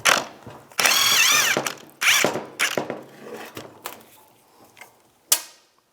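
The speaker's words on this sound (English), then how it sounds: "use a 16mm socket. Take the nut off." A power tool with a 16mm socket spins the nut off a shock absorber shaft on a 2004–2010 BMW X3, in short loud whirring bursts that fade into softer clicks and end with one sharp clank.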